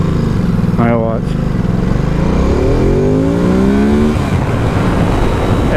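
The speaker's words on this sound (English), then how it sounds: "I'll throttle off pretty hard and watch the bike kind of lift a little bit." A 2017 Ducati Supersport motorcycle engine being shut off hard, loud and close, its pitch sliding down as the revs fall while a rider speaks over it.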